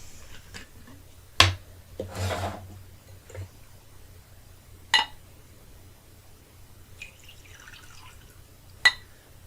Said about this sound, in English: That's a healthy pour.